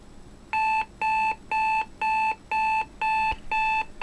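A Sony Dream Machine ICF-C4W clock radio alarm beeps in a steady repeating pattern, about eight loud, even tones with short gaps between them, close and clear.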